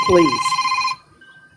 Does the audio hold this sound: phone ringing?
yes